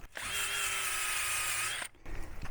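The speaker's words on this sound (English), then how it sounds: "hit it with the Drill to knock the loose stuff off" A power drill whirs steadily at high speed for nearly two seconds, close and loud, removing loose rust from metal patio furniture, then stops briefly and starts up again.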